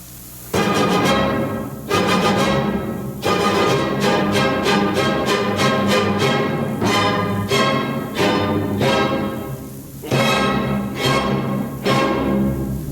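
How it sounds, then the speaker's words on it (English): A full orchestra plays the alternate, abrupt ending of the first movement of Beethoven's Fifth Symphony, loud and dense, with repeated forceful chords broken by short pauses and no talking. "This is a typical abrupt Beethoven-ish ending."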